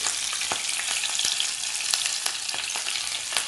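Mustard seeds, urad dal, curry leaves and green chillies are tempered in hot oil, giving a dense, steady hiss of sizzling fat close by, dotted with small sharp pops and crackles.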